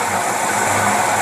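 A Buick engine fitted with dual WCD carburetors idles steadily, a continuous close mechanical drone with no clear change over the short stretch.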